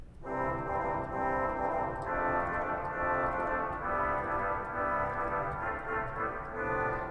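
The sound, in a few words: pipe organ Waldhorn 16 foot reed stop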